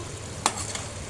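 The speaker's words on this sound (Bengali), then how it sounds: "এখন চিচিঙ্গাটা ভেজে নেব" Snake gourd fries in a pan with a low, steady sizzle. One sharp scrape of a utensil is heard partway through, with no talking.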